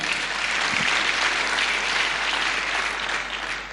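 Steady applause from an audience at a Women in Construction Forum, dense and sustained throughout with no pause, easing only slightly near the end.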